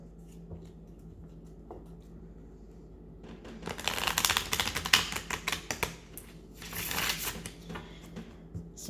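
Oracle cards being shuffled and drawn by hand, a faint rustle at first, then closer riffling and flicking snaps in quick bursts.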